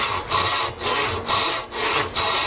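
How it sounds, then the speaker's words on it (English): A back saw cuts through a part clamped in a vise, making steady rasping strokes. About five even back-and-forth passes ring out close and clear with no talking. "We're going to saw this off."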